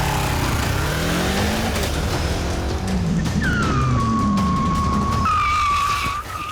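An old Honda CB500 motorcycle revving hard and pulling away, then braking sharply with a loud rising tire squeal near the end, all close and loud without talk.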